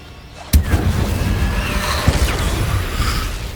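Incendio fire spell cast in Hogwarts Legacy, a sharp burst flaring up loudly, then a second blast about a second and a half later amid ongoing crackling combat noise.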